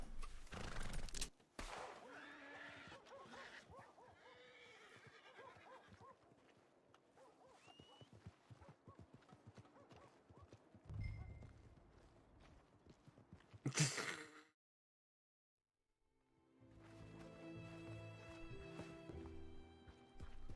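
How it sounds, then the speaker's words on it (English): A horse whinnies loudly in Red Dead Redemption 2 amid clopping hooves and shuffling movement, followed by a brief silence and then a busier background. "I was just spooking a horse is all."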